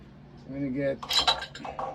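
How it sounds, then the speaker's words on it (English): A pipe wrench works a plumbing fitting while an expansion tank is swapped, making a brief cluster of sharp metallic clinks and clanks up close, after a short voiced sound. "a pipe wrench on this here. There you go. Turn it without disrupting anything else."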